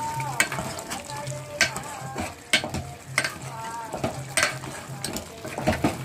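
Curry seasoned with coriander powder bubbles and simmers in a pan, a soft continuous sizzle broken by repeated stirring scrapes of a spoon against the metal at an uneven rhythm.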